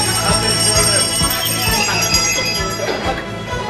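A bell rings out over lively festive music and crowd noise at a Venetian New Year's Eve celebration, its tone blending with the steady background din.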